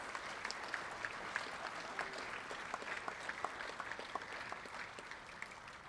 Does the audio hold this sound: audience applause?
yes